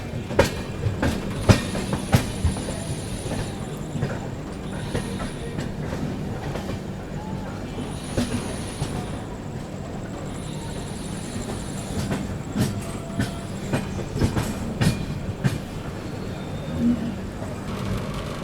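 Grand Trunk Express train pulls into Itarsi Junction, steady rumble with rhythmic wheel clatter and occasional high squeal, heard from inside a 2AC coach with faint background voices.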